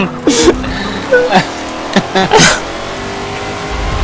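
Race car engines in Forza Motorsport 7 rev and accelerate loudly, with a few sharp bursts and whines over a continuous engine drone.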